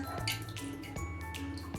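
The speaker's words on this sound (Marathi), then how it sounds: "रवी जरा हे गरम पाणी याच्यामध्ये बुडवून घ्यायचे" A wooden butter churner dipped into hot water in a home kitchen while making ghee, giving soft wet drips and sloshes over a steady low hum.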